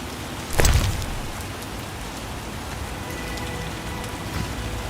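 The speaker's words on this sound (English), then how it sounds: "It rains and it pours." Rain pours steadily in The Witcher video game, a dense, even hiss of falling water with a brief louder thud or rumble near the start, with no voices.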